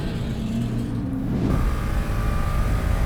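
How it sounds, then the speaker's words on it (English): Ford Mustang race cars work through turn one of a road course, their V8 engines a loud, close, throaty roar. Revs rise and fall as one car accelerates past another, with no talk. "this is an A sedan or ITO Mustang that Dario's taking on the inside of turn one"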